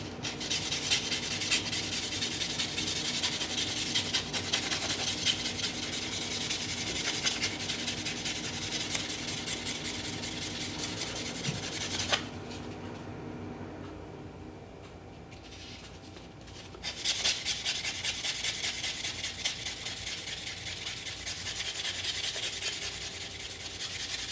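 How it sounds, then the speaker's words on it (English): A Kennedy half dollar coin shaped into a ring is sanded with a continuous raspy rubbing that runs steadily, pauses briefly partway through, then resumes, heard close up and alone with no voices. "I'll go ahead and sand this a little bit."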